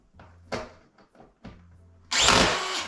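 A power drill driving screws into plasterboard around a window gives several short buzzing pulses, followed by a loud sustained whine at the end, close by.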